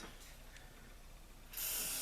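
A short, close burst of cleaner spray hisses into the rotor of a Johnson Century Model 100B fishing reel, starting after a quiet moment and continuing steadily to the end.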